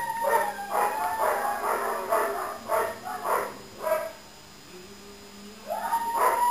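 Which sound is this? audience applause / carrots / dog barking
dog barking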